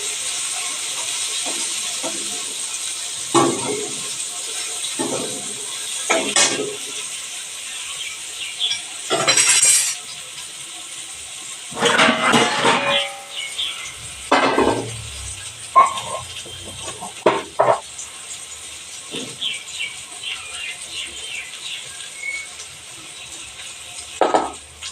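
Pointed gourd (potol) slices frying in a pan, a steady hiss of oil with repeated scraping bursts of stirring at irregular intervals, close and moderately loud.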